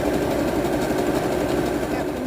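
A sewing machine runs steadily while stitching a ruffled lettuce hem on a DIY underwire tank top, a continuous close motor whir that holds an even level through the whole stretch.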